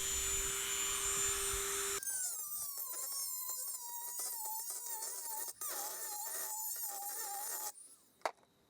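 Rotary grinder whining at high pitch as it grinds a bearing bore in an early Wheel Horse transmission housing, a sustained tone wavering in pitch with short interruptions, close and alone, ending with a brief clatter.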